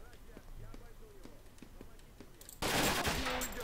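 Abakan assault rifle fire in the video game S.T.A.L.K.E.R. Lost Alpha: soft taps and footsteps, then a sudden loud, sustained burst of automatic gunfire near the end, with someone talking in the background.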